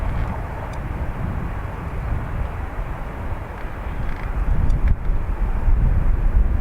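An aircraft taxiing past a gap in the perimeter fence at Dublin Airport gives a steady broadband engine roar with gusty wind noise, growing slightly louder toward the end, with no voices.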